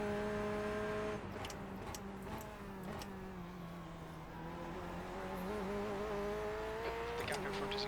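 A Corvette C8.R GTE-spec race car in the iRacing sim, its engine holding a steady droning tone that sags and climbs gently with revs, with faint clicks and a brief tire-like squeal near the end.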